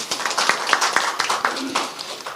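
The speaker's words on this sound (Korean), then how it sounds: "박수 한번 보내주십시오." Audience applause at a Korean political campaign rally, a short burst of crowd clapping at moderate distance with a voice faintly present beneath it.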